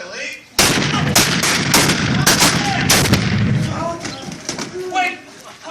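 Sharp gunshots crack out in a rapid burst of about a dozen rounds during a reenactment of the Gunfight at the OK Corral, fired outdoors, followed by shouting voices as the shooting dies away.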